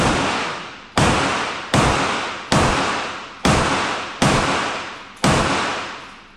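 A suppressed Honey Badger rifle in 300 BLK firing outdoors: seven loud, sharp reports spaced about a second apart, each followed by a short fading tail, with no talking.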